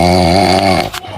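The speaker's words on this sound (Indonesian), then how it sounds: "Kayak ada suara orang ngorok." A person snores loudly and close by, one long rumbling, buzzing inhale that fades out at the end, with no talk.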